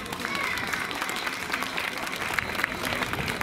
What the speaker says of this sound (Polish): wielkie brawa dla najmłodszych